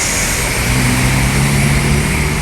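A Sumbar intercity bus, an NPM V16, rolls into the Simpang Macan Lindungan traffic-light intersection in Palembang at night, its engine a loud, close, continuous low rumble with a steady drone.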